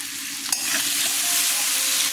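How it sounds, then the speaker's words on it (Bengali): Potatoes fry in mustard oil with turmeric, giving a steady, loud sizzle with a faint stir or clink near the start, alone with no voices. "সর্ষের তেল দিয়ে দিলাম, আলুগুলো ভেজে নিচ্ছি।"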